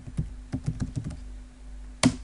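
A computer keyboard is typed on in a quick burst of light, close taps, followed by a brief pause and one sharper keystroke, heard alone in a quiet room.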